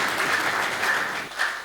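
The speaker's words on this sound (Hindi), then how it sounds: "बस बस भजन खत्म, तालियां बजा दीजिए।" Brief, moderate applause from an audience at a comic poetry recital after a sung devotional parody, a short burst of clapping that swells and fades within a couple of seconds.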